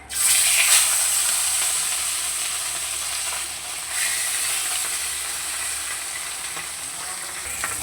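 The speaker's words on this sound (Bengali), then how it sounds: "এবার এই পিসটাকেও লাল করে ভেজে নেব" Steady, loud sizzling and crackling of fish frying in hot oil, a dense hiss that swells briefly near the start and holds throughout with no voices.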